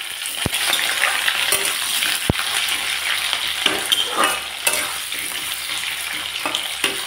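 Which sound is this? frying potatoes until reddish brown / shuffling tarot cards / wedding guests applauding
frying potatoes until reddish brown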